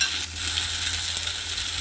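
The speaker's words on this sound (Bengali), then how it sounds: "এখন বাকি চিড়েটা দিলে চিড়ার সঙ্গে আরেকটু ভাজা হয়ে যাবে" Flattened rice (chira) stirred and fried in a pan, a continuous close sizzle with light scraping from the stirring.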